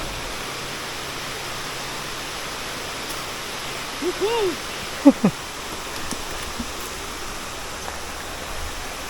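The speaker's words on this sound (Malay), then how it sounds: "Kita dah sampai atas air terjun ni." Buntong waterfall in Malaysia gives a steady, even rush of falling water throughout, with a few brief chirping or whistling sounds rising over it near the middle.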